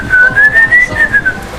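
Someone whistles the melody of a song, a clear sustained tune, loud and close, over a low background murmur.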